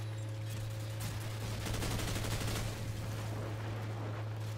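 Rapid bursts of gunfire in a Call of Duty: Modern Warfare match ring out over a steady low engine-like hum, the shots packed densely through the middle of the stretch with no voices.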